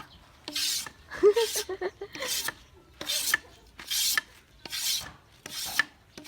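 Wood whittled by hand with a blade in a rural village, a series of rasping scrapes in repeated strokes at close range, with someone speaking between them.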